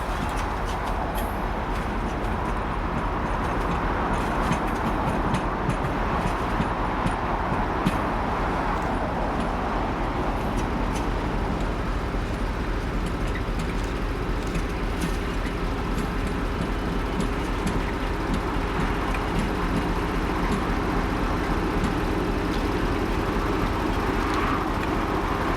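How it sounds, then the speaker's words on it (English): Class 56 diesel locomotive 56049 starting up and shunting, a steady rumbling engine drone that holds for the whole stretch, loud and continuous with a broad mechanical hum and no talk over it. "56049 gets started up and does all its shunt moves ready to work 6N47"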